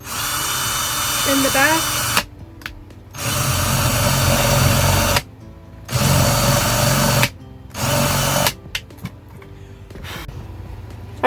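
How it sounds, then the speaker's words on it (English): A small power drill whines in several bursts of a few seconds each, drilling a slight hole in a DIY hanger, separated by brief pauses, with a voice speaking briefly near the end. "you can attempt to drill a slight hole"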